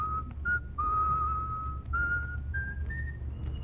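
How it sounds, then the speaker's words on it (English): A man whistles a slow tune nearby, clear sustained notes stepping gradually higher over quiet background rumble. "That man's always whistling"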